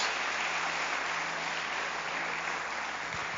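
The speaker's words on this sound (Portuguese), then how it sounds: "aplauda Jesus por esses irmãos" Continuous applause from a church congregation, moderately distant and fairly quiet, a dense even patter of clapping that holds steady throughout.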